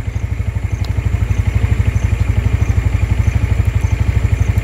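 TVS Jupiter Connect 125 scooter idling close by, a steady low rhythmic engine putter that carries on evenly through the whole stretch with no other sound.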